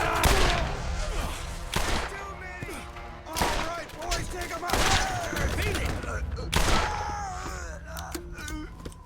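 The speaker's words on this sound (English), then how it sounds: "let me try this new pistol actually" Pistol fire in the video game Borderlands GOTY Edition: several loud, sharp shots in separate bursts, each trailing into echoing game effects and mechanical clatter.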